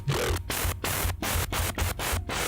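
A gritty, heavily distorted synth growl pulses in short, loud bursts separated by brief silent gaps, sounding harsh and saturated on its own with no voices.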